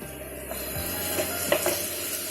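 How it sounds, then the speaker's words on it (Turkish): Minced meat sizzles steadily in a hot pan with a soft, continuous frying hiss and a few faint clinks of stirring, while it is browned for an Aegean-style stuffed bread filling. "Bir taraftan kıymam kavruluyor."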